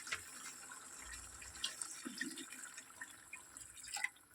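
Water poured into a pot of biryani rice on a picnic cooking fire, a faint splashing trickle of liquid with occasional drips and a small clatter near the end, outdoors with soft background noise.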